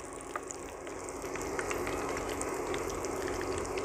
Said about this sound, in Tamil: ஒரு 5 நிமிஷம் பொரிச்சுட்ருக்கோம்